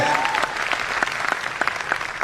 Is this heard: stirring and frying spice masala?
no